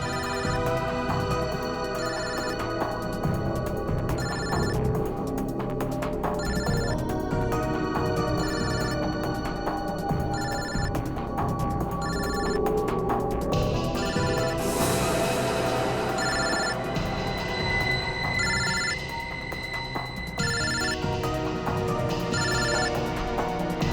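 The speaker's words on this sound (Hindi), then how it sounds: "सर दिव्या का फोन तो यही कहीं बज रहा" A mobile phone ringtone repeats over and over from somewhere close by at a crime scene, its electronic melody cycling through loud background music without a break.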